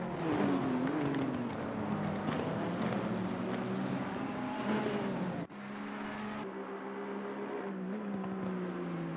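An Aston Martin race car on track at the Zolder circuit during a four-hour endurance race, with engine drone holding steady and then a sharp cut as it passes, under a continuous layer of other car noise and no speech.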